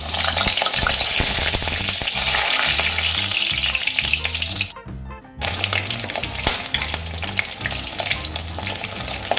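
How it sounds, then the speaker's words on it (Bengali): Pointed gourd (potol) pieces fry in hot oil with a loud, steady sizzle and crackle, stirred with rhythmic low clatters of a utensil in the pan, broken by a brief pause before the sizzling resumes. "এখানে তেল আমি খুব ভালো করে গরম করে নিয়েছি। এবার আমি পটলগুলো ভেজে নেব।"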